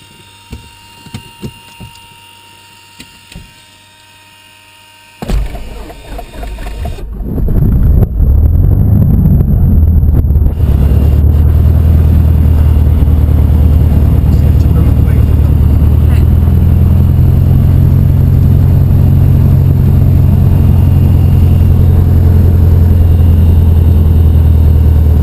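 A light aircraft's propeller engine cranks after a few soft clicks, catches, then settles into a loud, steady droning roar that continues without a break.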